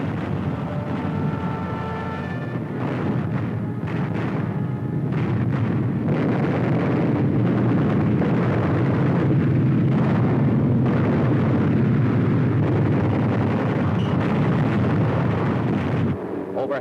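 Explosions from bombs dropped by Luftwaffe planes on the 1940 Western Front rumble as a continuous heavy, dull roar with scattered booms, muffled and grainy like old newsreel sound, without voices.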